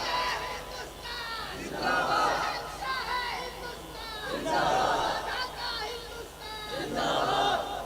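A large crowd at a religious jalsa roars back in rising waves after Nara-e-Takbir slogans, loud massed voices swelling three times over a dense hall ambience.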